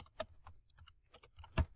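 Typing on a computer keyboard, a brisk irregular patter of soft key clicks, faint and close, with one heavier keystroke near the end.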